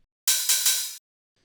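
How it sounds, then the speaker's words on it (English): An old-school hi-hat sample plays alone as a single bright, hissy burst of about three quarters of a second, with slight pulses inside it, fairly quiet. "That's just the hat."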